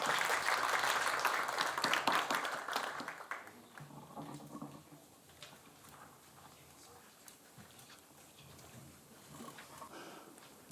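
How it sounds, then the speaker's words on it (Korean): Audience applause at a policy forum on child housing poverty, a burst of clapping that is fairly faint in the first three seconds and then fades into quieter room noise. "나오실 때 박수 부탁드리겠습니다"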